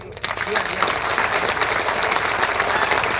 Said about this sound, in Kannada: ಈ ವೇದಿಕೆ ಮೇಲಿರುವ ಎಲ್ಲ ಗಣ್ಯರಿಗೆ ಏಕಕಾಲಕ್ಕೆ ಎಲ್ಲರೂ ಚಪ್ಪಾಳೆ ತಟ್ಟೆ